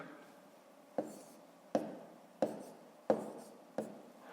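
Handwriting of numbers during a fifth-grade maths division exercise, heard as five crisp, evenly spaced taps of a pen or pencil on paper, each followed by a brief scratchy stroke, close and fairly quiet with no talk.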